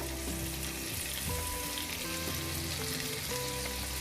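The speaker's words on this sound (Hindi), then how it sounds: "सारे पनीर को इसमें डाल के हम शिमला मिर्च के साथ फ्राई कर लेंगे हल्का हल्का।" Paneer cubes fry lightly with capsicum in a pan, producing a continuous dense sizzle and crackle at steady volume, close up, with no talking.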